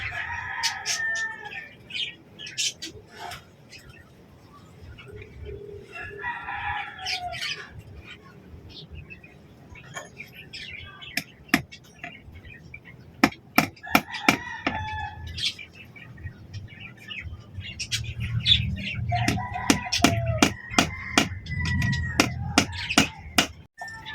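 Chickens cluck and chatter near a coop while a rooster crows, with scattered sharp clicks and knocks from handling nearby. The sounds are moderately close and grow busier toward the end.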